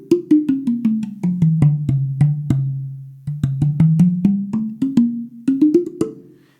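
A tuned steel tongue drum picked up by a microphone plays a slow run of clear, ringing notes. The notes step down and then back up in pitch, each struck note sustaining warmly into the next, with no talking.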